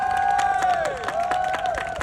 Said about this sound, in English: Give a big round of applause for Charlie Reynolds.